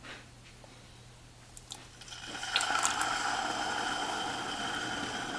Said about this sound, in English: the mixture starts to bubble up and hiss